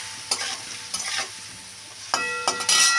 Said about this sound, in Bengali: দেখো নাড়ি চাড়িয়ে কিন্তু সব মিশিয়ে নিয়েছি। সামান্য একটু জল দিয়ে দিলাম যাতে মশলাটা ভালো করে সবজির সাথে মেশে